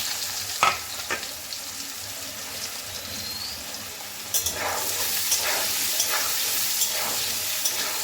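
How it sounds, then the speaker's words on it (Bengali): Potatoes frying in hot oil left from frying prawns for a Bengali jackfruit-prawn curry; a few clinks and scrapes, then a loud crackling sizzle erupts and continues with stirring, close by. "এবারে ওই তেলে আমি আলুগুলোকে ভেজে নামিয়ে নেব।"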